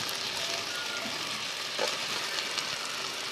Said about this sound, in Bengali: এবার আমি দিয়ে দিচ্ছি ধুয়ে রাখা সেই দেশি মাংস